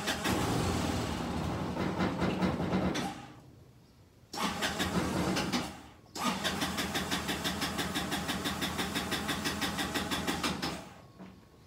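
Kymco scooter engine starting and running rough, a loud, near, uneven buzzing idle that cuts out twice with short gaps before catching again and running on steadily.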